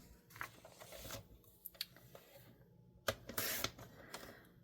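A book page tag for a junk journal is trimmed with a few quiet, scattered snips and crisp paper cuts, close and faint, with small handling rustles between them.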